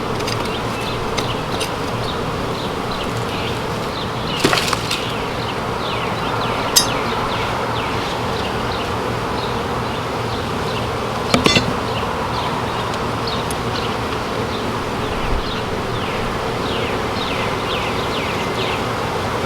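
A dense, continuous buzz of many bees hums close by in a yucca tree, steady throughout, with a few faint clicks and bird chirps in the background.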